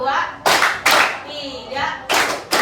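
A group of children claps hands in a counted classroom clapping game, sharp loud bursts landing in a steady beat with a voice calling out between the claps.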